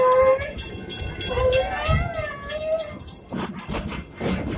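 A rhythmic clatter of train wheels on track with tonal whistle-like squeals, fairly loud and close, with some voices mixed in.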